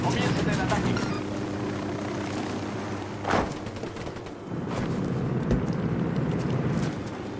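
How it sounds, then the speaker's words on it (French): Helicopter rotor noise rumbles steadily amid combat sounds in Ghost Recon Wildlands, with sharp bursts and thuds breaking through the dense, continuous roar. "Un hélico à plein ventre."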